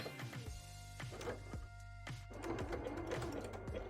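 A sewing machine stitches a wide zigzag through fabric for a bra, faint and close, with a quick run of rhythmic mechanical clicks and thumps.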